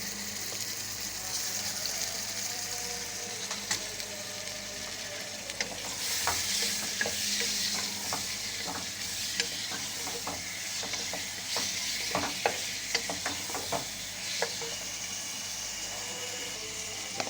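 Beef liver frying with onions in a pan, a steady loud sizzle broken by frequent scraping clicks of a spoon stirring through the pieces, close up and with no talking.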